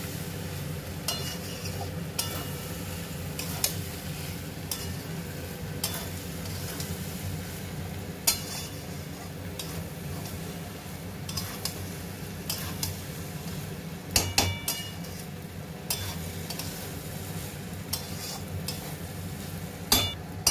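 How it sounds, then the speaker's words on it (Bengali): Prawn and egg fried rice being gently turned in a pan, with soft scraping and light clinks of a utensil against metal over a low steady sizzle, scattered knocks throughout; no voices. "এবারে হালকা হাতে এদিকে একটু নেড়ে চেড়ে নিয়ে দমে খানিকক্ষণ রেখে দেবো"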